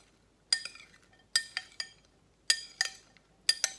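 Metal utensil clinking against a bowl while mixing herb-infused cooking oil, heard as short bright scrapes and taps in a few clustered bursts, close and fairly quiet, with no talking.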